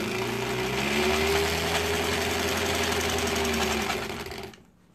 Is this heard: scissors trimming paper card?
no